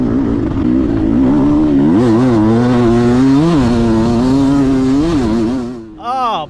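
A two-stroke enduro dirt bike engine revving loud and close as the throttle is twisted, its buzzing pitch surging up and down in several quick blips before dropping off.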